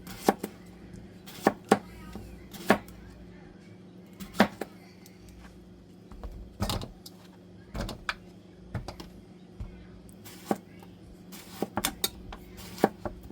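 Knife slicing fresh garden cucumbers on a cutting board for pickles, a series of crisp irregular chops, some in quick clusters, close and fairly clear over a quiet room.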